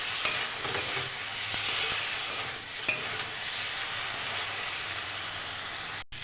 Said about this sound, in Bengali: ভেজে রাখা আলু আর ডিম দিয়ে দিচ্ছি। আর কিছুক্ষণ আমি কষিয়ে নেব।